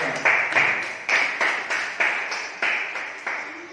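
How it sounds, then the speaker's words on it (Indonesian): A class claps in the classroom for a presenting group during a micro-teaching session, about a dozen crisp hand claps in a fairly even rhythm, close and moderately loud, with no talking. "Tepuk tangan dulu kelompok 1."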